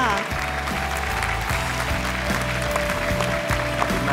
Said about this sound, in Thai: ขอเสียงปรบมือดังๆให้กับคุณ Google ด้วยนะคะ